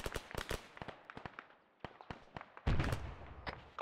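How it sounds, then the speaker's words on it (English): Heavy gunfire in an Arma 3 battle on Tanoa: sharp shots crack out in irregular bursts, some near and loud, others distant, ending in a dense, sustained volley. "Suppressing. Taking heavy fire from the south."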